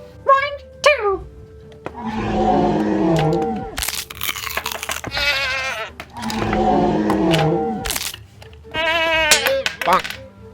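Goats bleat loudly and repeatedly as a Neovenator eats them in the Jurassic World Evolution video game, long wavering cries interleaved with crunching, and a person speaks briefly.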